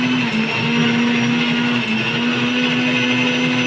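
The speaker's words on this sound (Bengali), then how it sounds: "ব্লেন্ডার এত বেশি আওয়াজ করতেছে" A blender making chocolate ice cream whirs loudly and steadily throughout, a constant motor hum with a dense high-pitched roar and no voices.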